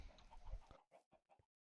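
Minecraft chickens cluck in a quick burst of short, clipped calls, a few distinct clucks in a row that trail off, fairly faint and alone.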